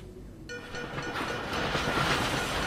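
A train rumbles past in the video game Dishonored, a dense rushing roar that starts abruptly and builds steadily louder over a couple of seconds, with no speech.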